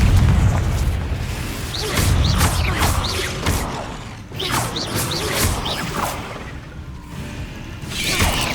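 A Confringo fire spell blasts in Hogwarts Legacy, a series of loud booming explosions with whooshing bursts and crashing debris that repeat every second or two over a dense, rumbling game soundscape.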